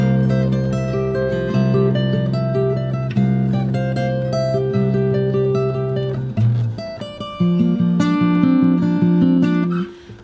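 The opening part of the last section of The Mandalorian theme on fingerstyle acoustic guitar, high melody notes over an open low bass string. Played close and full, with a brief break before a new run of plucked notes.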